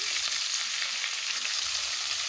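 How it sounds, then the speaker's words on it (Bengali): Cauliflower florets fry in hot oil in a pan, a steady, close hiss of sizzling that stays even throughout with no talking. "এবারে ওই তেলেই কপিগুলো ভেজে নেব"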